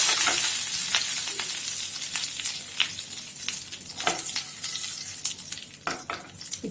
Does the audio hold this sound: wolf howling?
no